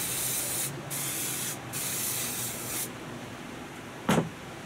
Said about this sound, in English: I actually went and bought some of this splatter stuff. I'm gonna spray that on there.